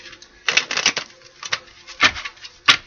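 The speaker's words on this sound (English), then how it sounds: "I'm going to shuffle two more times." Tarot cards are shuffled by hand in several quick riffling bursts, crisp and close, separated by short pauses.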